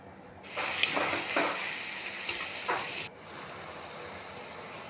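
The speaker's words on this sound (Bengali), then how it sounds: "তারপর আরেকটু তেল দিয়ে পেঁয়াজ কুচি দিয়ে দিয়েছি।" Chopped onions hit hot oil for a Bengali mutton curry, bursting into a loud hiss that holds for a few seconds with some stirring scrapes, then drops to a softer steady sizzle.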